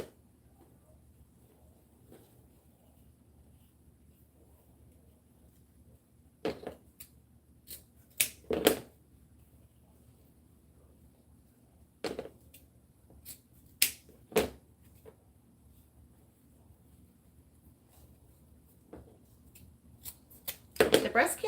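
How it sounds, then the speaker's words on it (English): Scissors cut through three ribbons at a time for a breast cancer wreath, making several sharp, close snips in short clusters separated by quiet pauses. "I usually only take 3 ribbons at a time, otherwise it doesn't cut right and the ribbons start moving around."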